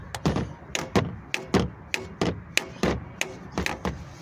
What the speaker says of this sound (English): Give it a little tap, don't do it no harm.